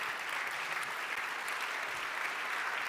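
Audience applause at an award ceremony and evening reception, a steady, dense wash of many hands clapping at a moderate distance, continuous for about three seconds with no voices over it.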